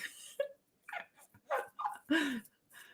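Dogs on a couch indoors, whimpering, yipping and giving a few short barks in uneven bursts, close by and fairly clear over about three seconds.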